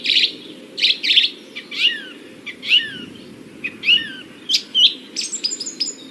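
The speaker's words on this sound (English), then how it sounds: "basically cartilages and muscles activating to open up different passages in the airways to produce bird song." Bright bird song with a rapid series of sharp chirps, whistled trills and descending notes, close and clear with no speech.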